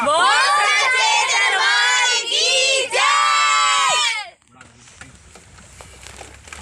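A large group of pilgrims on the way to the Maa Vaishno Devi shrine loudly shout a devotional Jaikara together, a dense crowd roar of many voices with a brief dip, cutting off after about four seconds into quieter background chatter.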